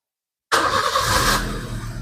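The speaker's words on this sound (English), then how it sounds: "Start the car and run it for about 5 to 10 minutes." A Maruti Suzuki Ritz engine cranks and catches after a brief silence, then settles into a steady close idle with no one speaking.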